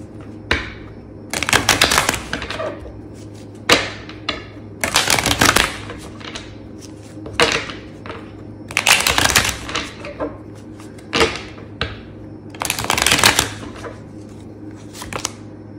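Tarot cards from a Cosmic Tarot deck are shuffled in repeated bursts of crisp riffling and slapping, close and loud, with short pauses between rounds.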